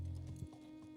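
Horse hooves clip-clop in a short burst during a Peaky Blinders episode, a few quick hoofbeats on a hard street heard over a low steady hum.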